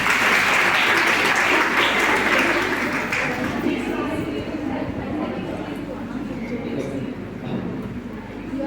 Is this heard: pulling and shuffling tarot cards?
no